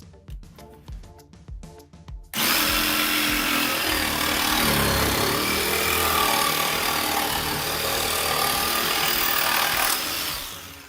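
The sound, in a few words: Ryobi 18V One+ P5231 orbital jigsaw cutting OSB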